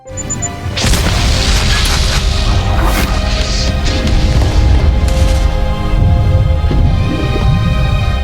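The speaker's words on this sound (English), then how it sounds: "The huge explosion causes the base to collapse" A sudden deep boom erupts after a brief quiet beat, followed by a sustained roaring, crumbling rumble that stays loud to the end, as a time bomb destroys a sea base in Resident Evil.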